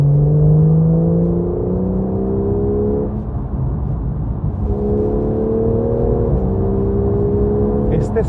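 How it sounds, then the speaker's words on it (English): Porsche 911 Carrera GTS (991.1) with sports exhaust engaged, a steady engine drone with rising harmonic lines as revs climb, a gear change near three seconds, then another pull; loud and close, no talk. "Let's press sports exhaust"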